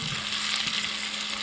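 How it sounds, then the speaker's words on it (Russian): Chopped onion fries in a pan with a little oil, a steady soft sizzle and crackle heard alone and up close while cooking Uzbek plov. "Лук уже жарится."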